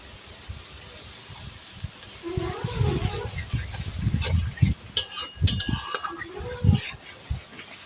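A bowl being rinsed and filled with water in a home kitchen beside a clay mud stove, with scraping, splashing and a few sharp metallic clinks heard up close, getting busier toward the end.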